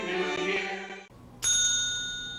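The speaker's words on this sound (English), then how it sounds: "Bells." A bright, sustained bell tone rings out on its own after a passage of harmonic music, its clear partials fading slowly, amid Christmas carol singing.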